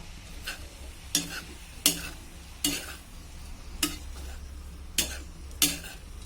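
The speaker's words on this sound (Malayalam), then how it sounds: "ഇടയ്ക്ക് ഒന്ന് ഇളക്കി കൊടുത്തോളൂ കേട്ടോ." A spoon stirs colocasia stem thoran in a pan, scraping about seven times in a steady rhythm over a quiet sizzle, each stroke close and crisp.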